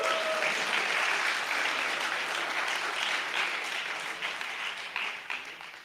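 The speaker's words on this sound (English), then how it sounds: "big applause for Omai.TV, ladies and gentlemen" Dense, steady applause fills a live pitching event hall, holding loud and even for several seconds before thinning and tapering toward the end.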